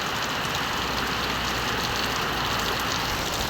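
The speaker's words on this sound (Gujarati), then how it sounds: "ખાલી એકલો વરસાદ જ છે" Steady rain falls without wind, making a dense, unbroken hiss that stays at a constant level from start to finish, with no voices and no gusts.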